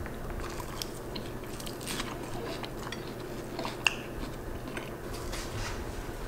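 Someone bites and chews a salad topped with tomato and vegan ranch dressing, producing soft, close crunching and wet chewing sounds throughout, with one sharper crunch partway through.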